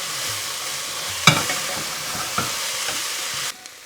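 Cabbage and potato sabzi cooking uncovered in a pan over medium heat, a steady close sizzle with a couple of utensil clicks, then the sizzle drops away sharply near the end.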